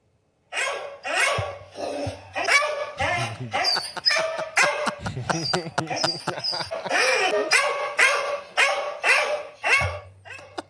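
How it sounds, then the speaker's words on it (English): A dog barks over and over in sharp, close bursts, some quick and clipped, others yelping, with short gaps between. "Cattle dog barking sound."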